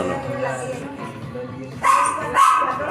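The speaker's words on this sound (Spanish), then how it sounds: "ese ladrido agudo que tenemos como ambientación de este podcast" A dog gives sharp, high-pitched barks and yips in a home podcast setting, with two louder barks toward the end over and amid a person talking.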